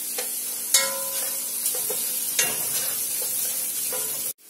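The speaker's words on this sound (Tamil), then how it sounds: "குடமிளகாய் இந்த அளவு வதங்கினா போதுங்க" Capsicum sautés in a pan with a steady, even sizzle of frying. A few light scrapes of stirring sound close by, and the frying cuts off abruptly at the end.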